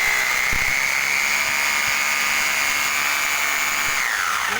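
A Bosch GBH 2-26 DRE rotary hammer drill runs in impact mode with a steady high motor whine and buzzing hammer rattle, close and loud, winding down at the end.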